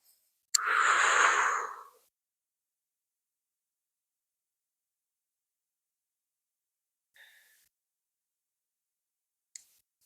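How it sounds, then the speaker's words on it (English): A single long, breathy exhale through the mouth during qigong, close and soft, lasting over a second, followed by long silence and a couple of faint clicks. "when you're exhaling through the mouth, you're releasing tensions"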